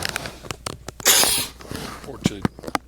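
A single short, sharp sneeze bursts out midway through a meeting of a general assembly, set among scattered clicks and other people speaking nearby.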